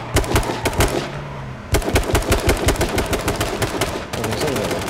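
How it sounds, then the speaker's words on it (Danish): Rapid automatic gunfire in the video game H1Z1, loud, close and sustained, with dense rhythmic bursts broken by two brief pauses. "Så skyder jeg bare på dem."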